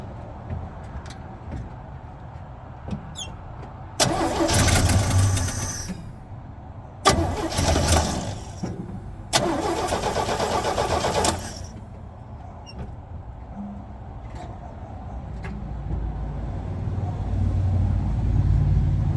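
A 1972 Chevy C10 pickup with a carburetor fuel problem cranks in three separate bursts of starter grinding, the engine straining without settling into a run, with quiet pauses between attempts.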